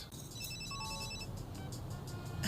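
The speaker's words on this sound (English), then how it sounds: "I should probably set my ultimate cell phone to ultimate vibrate." A cartoon cell phone rings in a quick, high electronic tone pattern, faint and brief, with a few clicks after it.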